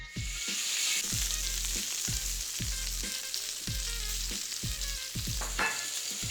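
A steak sears undisturbed in a hot pan, producing a loud, continuous, close sizzle. Regular low thumps repeat about every half second to second beneath it, and no one speaks.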